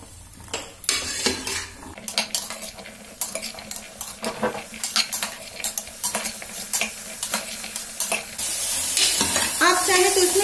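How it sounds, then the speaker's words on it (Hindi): Vegetables (potato, cauliflower, peas, carrot) stir-fried in ghee for moong dal khichdi, a spoon scraping and clinking against the pan in an irregular rhythm over a steady sizzle that grows louder near the end. "कि ये सब्जी थोड़ी सी हमारी भून जाए।"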